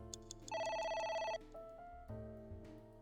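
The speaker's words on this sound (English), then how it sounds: "Phone rings, ignore." A phone rings inside the video game AI: The Somnium Files, giving one bright electronic trill-like burst followed by lower synthetic tones and beeps from the game, clear and fairly quiet with no talking.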